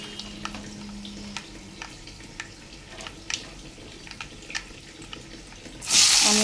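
A tempering of spices and asafoetida powder sizzles in a pan for a bottle gourd and tomato curry, with a low steady hiss and regular light clicks of stirring, ending in a sudden louder burst of sizzle.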